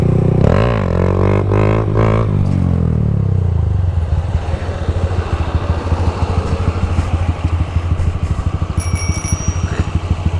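A Honda Grom 2.0 motorcycle being ridden starts with a loud, rising engine rev, then settles into a steady rough engine drone with rattling. It is heard close up with no talk.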